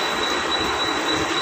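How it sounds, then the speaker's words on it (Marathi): A train rumbles at a Mumbai railway station platform with a steady, moderately loud rolling wheel noise and a thin high squeal above it. "तर चला बघा ट्रेन आलेली आहे"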